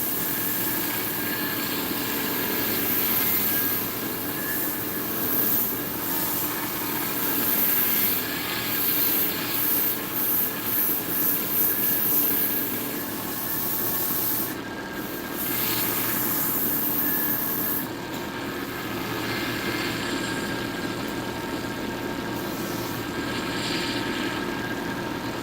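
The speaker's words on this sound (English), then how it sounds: "Roll up to the 400 just to see what kind of finish I can put on the bare wood" Fine 400-grit sandpaper is worked over bare wood spinning on a lathe, making a continuous soft rushing hiss over the steady drone of the motor, with a few short breaks in the contact.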